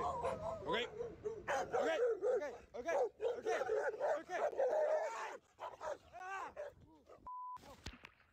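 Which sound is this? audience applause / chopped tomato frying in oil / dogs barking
dogs barking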